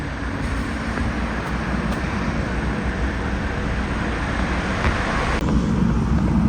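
A car engine idles steadily on a freezing morning with the heater switched on, a continuous low rumble with a broad hum, close and unbroken, with no talk over it.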